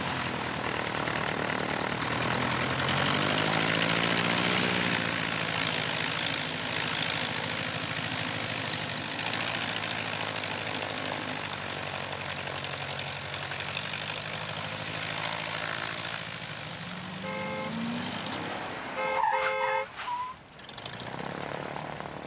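A small propeller aircraft holds at Ashford before departure, its engine droning steadily and loudly for the whole stretch. The buzzing, even tone wavers slightly near the end, and no one talks.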